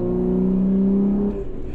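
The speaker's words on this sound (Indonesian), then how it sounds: "Tapi suara mesinnya tuh menderu-deru gitu." A modified Jeep Wrangler engine roars loud and close, holding a steady deep growl through a turn and then dropping back slightly near the end.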